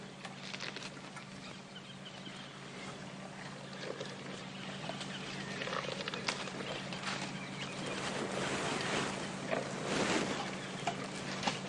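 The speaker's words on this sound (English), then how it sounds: "listen for a second to the amount of noise the elephants are making around us" Elephants moving around a vehicle on an evening safari drive, a steady mix of rustling, trampling and snapping vegetation close by, with distant bird calls and a low idling hum beneath, growing busier toward the end.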